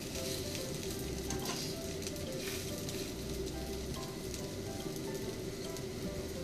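Green onion fritters fry in hot oil, a steady dense crackling sizzle that holds evenly throughout, close and continuous with no talk.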